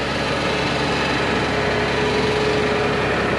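A diesel excavator engine runs steadily and loudly while digging backfill around a basement step well at an 1890s house restoration, a continuous rumbling drone with a faint rising whine partway through and no talking.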